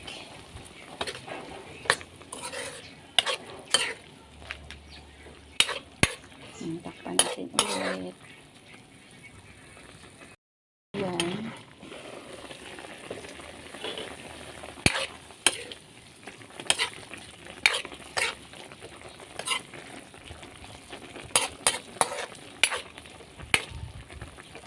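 Chicken and long bean adobo being stir-fried in a pan, with repeated scraping stirs and clatter over a steady sizzle, broken by a brief silent gap midway; faint background voice.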